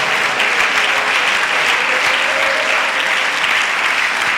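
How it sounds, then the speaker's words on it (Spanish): A church congregation at a Sunday school service breaks into loud, sustained applause, a thick continuous wash of clapping close and full throughout. "alguien que aplauda la gloria de Dios"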